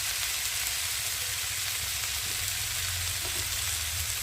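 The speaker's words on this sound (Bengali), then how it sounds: "মশলাটাকে ভালো করে ভেজে নেব" Prawns fry with spices, ginger paste and chili powder in a pan, a dense, steady close sizzle with faint crackles throughout.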